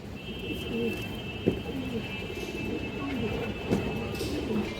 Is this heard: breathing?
no